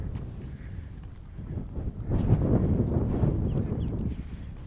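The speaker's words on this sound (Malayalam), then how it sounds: "നല്ല കാറ്റ്, ശക്തമായി കാറ്റടിച്ചുകൊണ്ടിരിക്കുകയാണ്." Strong wind gusts roar across an exposed hilltop in Virudhunagar, Tamil Nadu, a broad rumbling buffet that builds and stays loud in the latter half, with no voices present.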